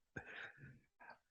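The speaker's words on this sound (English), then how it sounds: "I coughed into the mic." A single cough into a podcast microphone, close and loud, with a harsh burst followed by a short rougher tail and a brief second catch a moment later.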